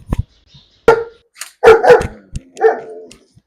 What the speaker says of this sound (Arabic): والتانيه هي نبحت من ورا